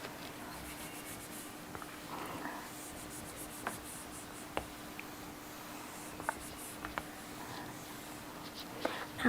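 Soft rubbing strokes of an eraser across a classroom board during an English lesson, a steady scrubbing texture broken by a few light knocks, faint and close, with no talk.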